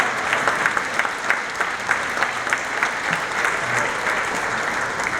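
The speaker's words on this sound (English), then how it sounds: "You notice, Esther, you got a greater applause than I did" A breakfast event audience applauds a newly welcomed ward councillor, with steady, dense clapping from a crowd filling the room at full volume throughout.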